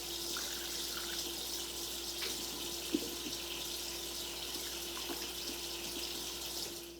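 Tap water runs steadily into a small skillet, a broad even hiss at moderate level with a faint drip or clink near the middle, no voices over it.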